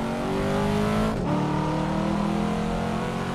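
A race car engine in the Assetto Corsa driving simulator, racing against Mustangs, BMWs and a Porsche, holds a loud, steady droning rev. The pitch drops briefly with a gear change, then climbs again and stays continuous and close throughout.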